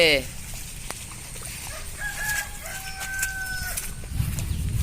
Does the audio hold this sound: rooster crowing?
yes